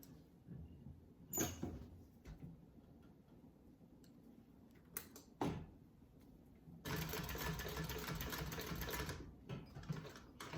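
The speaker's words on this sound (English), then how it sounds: "we're going to sew back down and stitch this down real good" A sewing machine stitches a leather or fabric wallet piece in short bursts, with a longer steady run of needle chatter near the end and handling clicks and pauses between the bursts. The whole thing stays fairly quiet and close.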